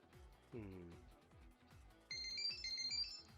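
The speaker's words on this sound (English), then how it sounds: "my phone's going off" A mobile phone ringtone sounds, a bright repeating melodic chime rising in over a rhythmic game soundtrack, fairly faint, with talk around it.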